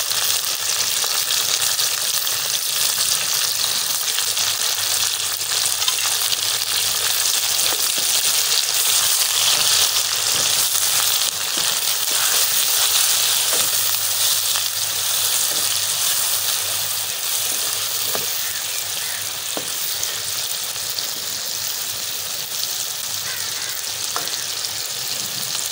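Chillies frying with garlic ginger paste in a karahi for Peshawari charsi karahi, a loud continuous sizzle with faint bubbling and occasional stirring clicks, no voices throughout.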